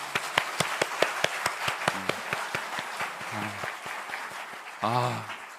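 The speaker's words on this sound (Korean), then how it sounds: "한번 격려의 박수로." A church congregation at a special dawn revival service claps in encouragement, steady applause of many hands with individual sharp claps standing out, while a pastor's voice speaks over it in places.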